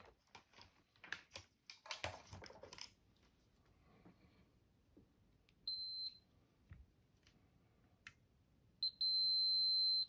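A multimeter sounds its continuity beep while testing a Super Nintendo fuse. Light tapping and handling noise come first, then a short tone, and a longer sustained beep sounds near the end.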